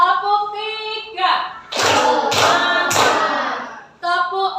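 A group claps a rhythmic pattern of three sharp, loud claps in quick succession, with a spoken voice just before and after.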